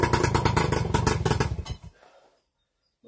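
An MBK 51 moped engine runs at a rough, clattery idle while warming up, then stutters and dies out around the two-second mark, leaving near silence with a faint knock at the end.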